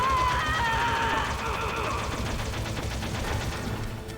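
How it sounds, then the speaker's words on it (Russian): Rapid gunfire rattles in Metal Gear Solid, a dense run of shots heard over soft in-game music tones, fairly loud and continuous across the stretch. "Вот это очень странная стрельба."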